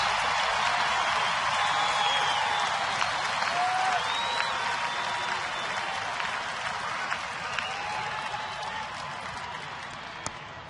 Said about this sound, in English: Now the crowd getting into it early here